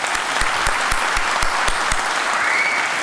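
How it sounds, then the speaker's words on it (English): An audience at a Black History celebration event gives a round of applause. Steady, dense clapping fills the room for the whole stretch, with some louder individual claps standing out against the crowd. "if you'll join me in giving them all a round of applause"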